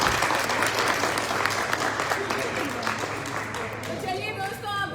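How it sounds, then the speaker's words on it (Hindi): Loud, sustained audience applause at an event, a dense wash of clapping that stays strong throughout and eases only slightly toward the end, with a faint voice under it. "जोरदार तालियां"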